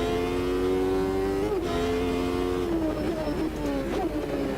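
V8 race car engine in the video game Automobilista 2, a loud steady drone that holds high, briefly dips as gears shift and then pulls again, with no talking.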